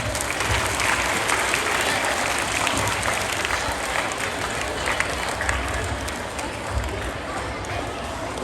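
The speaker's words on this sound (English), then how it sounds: "A huge round of applause, please." Sustained applause from a large crowd at a school Founder's Day celebration, dense and steady clapping throughout with a faint murmur of voices underneath.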